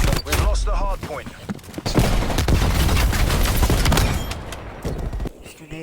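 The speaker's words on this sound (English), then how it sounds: "These grenades are getting out of hand." Rapid bursts of gunfire and heavy grenade explosions in a Call of Duty match, loud and near, nearly continuous with booming thuds, voices talking over the din.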